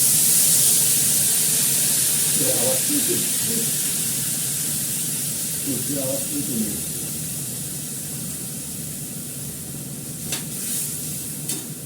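Potatoes frying in a pan, a loud continuous hiss and sizzle that slowly eases, with a couple of brief stirring scrapes and faint voices in the background.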